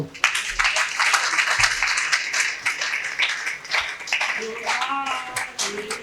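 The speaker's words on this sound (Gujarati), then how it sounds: "બધા આપણે તાળીઓ ચાલુ કરજો." Devotees at a Hindu temple anniversary festival clap in rhythm, a dense steady patter of hands under someone speaking over them, with a voice rising toward the end.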